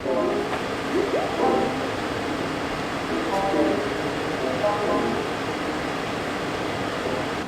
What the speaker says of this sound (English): The furnace is humming along, really nice and quiet.